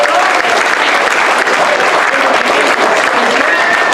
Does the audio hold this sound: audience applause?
yes